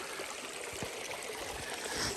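A creek running through brushy canyon country gives a steady, close rushing and trickling flow of water, even and continuous throughout with no voices.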